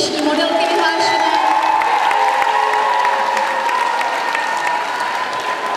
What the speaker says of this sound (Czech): ještě jednou velký potlesk pro dnešní modelky vyhlášené.